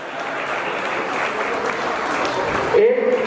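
Applause from the audience at a Hindi-language senior citizens' honour ceremony, a steady moderate clapping that carries across the whole moment, with a voice breaking in near the end.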